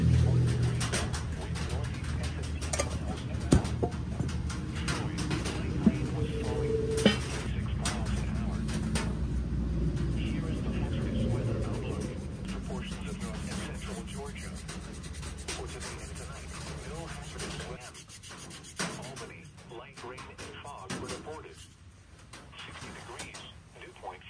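Steady scraping and rubbing as Never Dull polishing wadding is worked along the blade of a vintage Coleman Western lock blade knife, heard up close with someone talking over much of it.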